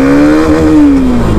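A Hero Xtreme 125R motorcycle accelerates hard in first gear, its engine note climbing loud and close in a rising rev, then easing slightly at the top.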